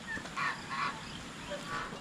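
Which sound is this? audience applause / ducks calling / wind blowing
ducks calling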